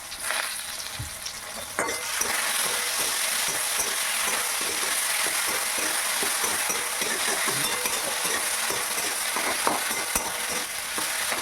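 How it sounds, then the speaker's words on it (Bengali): Ginger garlic paste sizzles steadily in a frying pan while being stirred, for a homemade chilli fish, with a continuous close frying hiss and frequent light scraping strokes and no talking. "আদা রসুনের বাটাটা দেওয়ার পর ভালো করে ভেজে নিয়েছি যাতে গন্ধটা চলে যায়"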